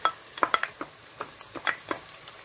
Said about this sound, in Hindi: अब हम इसमें अदरक लहसुन मिलाएंगे।